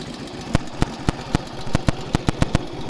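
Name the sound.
1948 Indian Chief motorcycle engine idling after cold start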